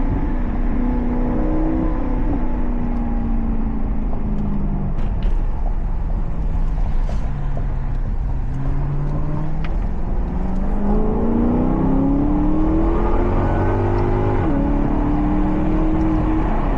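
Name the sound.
Maserati GranTurismo exhaust burbles while driving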